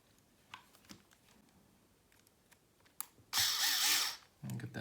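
A small power driver whirs briefly, about a second, starting a lock nut onto a stud on a Team Associated RC10 B6.3 car, after light clicks and handling of plastic parts, then a second short burst.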